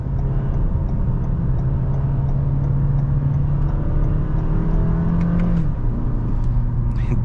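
2024 Toyota Camry with sport-tuned suspension driving through a handling test, its steady engine hum and road noise loud and close from inside the cabin, with the engine note rising and then dropping near the end.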